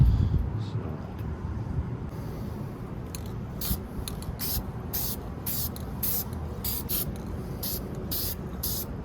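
Spray gun laying a hammered-finish paint coat onto a vintage Tatum T-70 rolling mill, heard as a steady close hiss with repeated short bursts of spray across the whole stretch.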